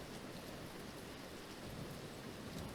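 Rain falls steadily as thunder rumbles low in a storm sound effect, a dense, even wash of noise with no distinct cracks or voices.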